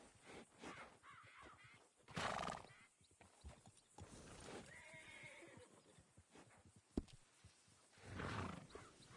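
A horse in Red Dead Redemption whinnies loudly a couple of times, with hooves clopping and other animal noises scattered between the calls.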